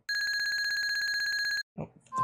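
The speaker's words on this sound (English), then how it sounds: "Oh, the phone." A telephone rings in the Super Mario RPG game on the SNES, a steady electronic trill of rapid pulses that lasts about one and a half seconds, loud and close, followed by short bursts of in-game sound effects.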